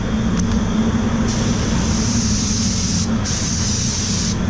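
A spray gun lays blender paint onto a car door, producing a steady loud hiss with brief pauses as the trigger is released and pulled again.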